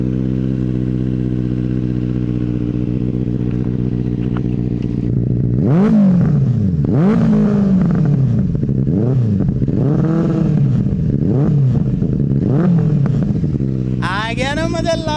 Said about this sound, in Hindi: चलते चलते तो वैसे थोड़ी सी आप एग्जॉस्ट नोट डेफिनेटली सुनोगे